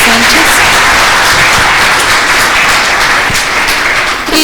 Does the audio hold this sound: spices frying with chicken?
no